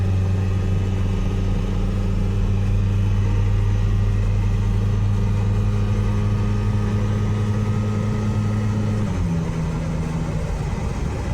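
Toyota fitted with a swapped VW 1.9L TDI diesel and automatic transmission accelerating on the road: a steady, droning engine hum with a low tone that climbs smoothly, then drops as it shifts near the end.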